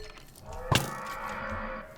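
A single loud, harsh creature cry from a video game bursts out briefly, rough and bellowing like a horse or cow call, over a steady low background hum.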